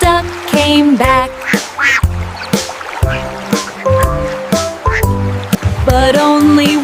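A voice imitates a duck in a nursery rhyme, quacking five times in a steady sung rhythm over a busy musical backing.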